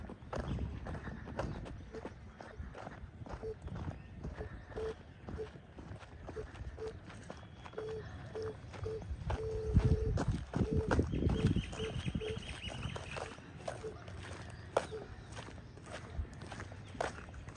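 Horses moving about inside a stable, with hooves clip-clopping and shuffling on the floor in irregular steps at close range, under quiet background sounds and brief low murmurs.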